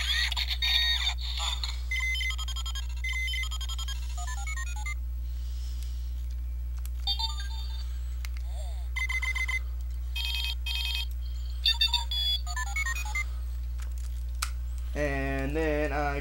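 A toy converted into a phone plays electronic ringtone noises, repeated bursts of beeping, ringing and chirping tones over a constant low hum, ending with a rising warble.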